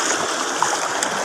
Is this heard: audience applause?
no